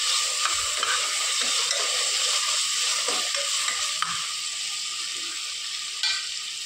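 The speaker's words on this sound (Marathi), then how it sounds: "ती परतून घेऊ. टोमॅटो घालते." Chopped tomatoes sauté in a pan for Maharashtrian-style mutton barbat, giving a steady, close bright sizzle with scattered scraping stirs throughout.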